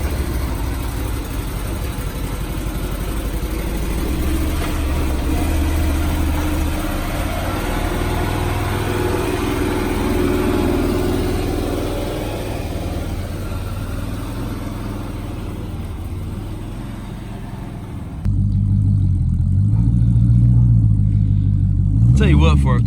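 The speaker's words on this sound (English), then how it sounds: "for a car, that SRT 8 sounds good. He's got a straight pipe" Dodge SRT8 car with a straight pipe exhaust idling and revving, a steady loud engine drone that swells into a deeper throbbing rumble near the end, with people talking over it.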